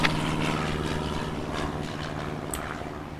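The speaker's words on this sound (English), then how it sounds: "Where's this fucking plane?" A propeller airplane drones steadily overhead, a continuous low engine rumble holding at moderate loudness through the whole stretch, with faint street traffic beneath it.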